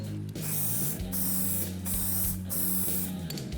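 Aerosol primer is sprayed onto a car body hole repair in several steady hissing bursts separated by short pauses, close and fairly loud over a low background hum.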